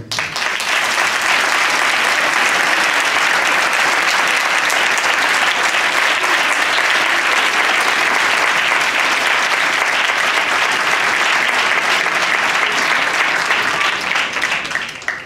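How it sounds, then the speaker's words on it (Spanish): A hall audience at a band award ceremony, the Trofeo Aurelio Campos presentation, breaks into loud, sustained applause that holds steady and dense for about fifteen seconds. "Creo que se merece un fuerte aplauso."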